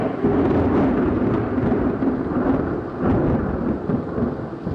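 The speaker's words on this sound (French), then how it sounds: "soudain un coup de tonnerre épouvantable ébranla la maison" A tremendous thunderclap shakes a house, a loud, deep rumbling roll that carries on for several seconds with the hiss of rain underneath.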